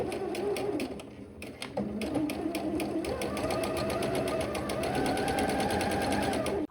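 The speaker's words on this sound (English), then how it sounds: "Start with a back stitch, Then sew forward." A sewing machine stitches a seam on a jersey skirt, running steadily as a rapid, even train of needle strokes. It pauses briefly near the start, then keeps sewing forward.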